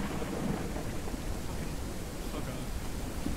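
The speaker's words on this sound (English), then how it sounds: "it's raining so hard" Heavy rain pours steadily in a survival video game, with rumbling thunder rolling underneath as a dense, constant wash of noise throughout.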